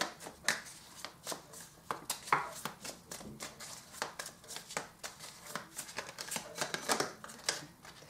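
Oracle cards being shuffled and drawn by hand, a string of crisp papery riffles and slaps in an uneven rhythm, close and clear with no talking.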